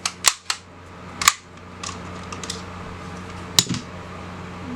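A West German Walther P-38 pistol dry-fired on a snap cap: a few sharp, close metallic snaps of the hammer falling, spaced apart over a low steady background hum, with no talk.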